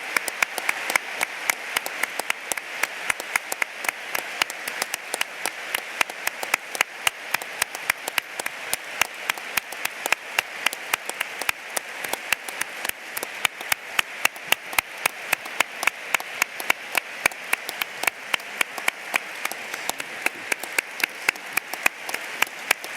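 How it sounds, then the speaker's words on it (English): A large lecture audience breaks into sustained applause, many hands clapping in a dense, even patter that holds steady at close range for over twenty seconds, with a faint voice now and then underneath. "I think this big round of applause actually"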